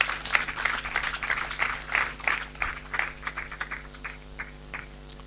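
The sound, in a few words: congregation applauding in church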